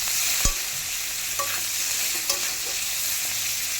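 Onions frying in oil with tomato and ginger-garlic paste for a gravy, a bright steady sizzle up close, punctuated by a few crisp spatula knocks and scrapes.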